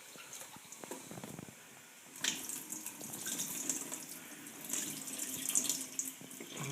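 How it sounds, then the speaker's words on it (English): Lentils being rinsed under a running kitchen tap, a steady close splashing stream of water with soft squishing as the grains are rubbed by hand, growing louder partway through. "I'm going to just give the lentils a bit of a wash, just to get any sort of dirt, dust off that."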